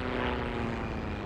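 A propeller airplane drones overhead in the World War II shooter game Heroes and Generals, a steady, loud engine roar that fills the short moment with no talk over it.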